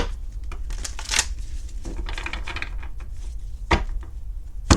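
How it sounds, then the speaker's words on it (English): Stiff tarot cards being shuffled and riffled by hand, uneven papery flicks and a few sharp snaps, close up and with nobody talking. "When I'm trying to shuffle these cards,"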